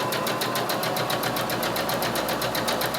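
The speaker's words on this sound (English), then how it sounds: "And then you're going to sew 1/4 of an inch from the edge." A sewing machine with a quarter-inch quilting foot stitches quilt pieces, a fast even mechanical rattle of needle strokes, close and steady, with no talk.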